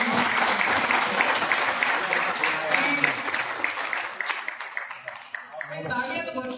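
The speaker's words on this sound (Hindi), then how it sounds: "आप सब उस वीडियो के लिए एक बार तालियां ठोक दीजिए" An audience claps at a training programme for teachers from selected schools, under Mission Jyotirgamay. The applause is loud and continuous throughout, with voices faintly mixed in.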